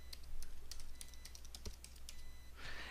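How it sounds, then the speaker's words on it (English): Steady typing on a computer keyboard while entering a host name into WinSCP file transfer software, a run of crisp keystrokes at a brisk uneven pace, close and clear over a low hum. "I'm going to type in the host name again"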